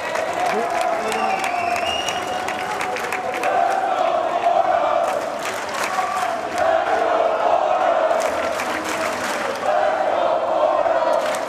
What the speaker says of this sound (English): And the crowd is on their feet here in the Messmore Center.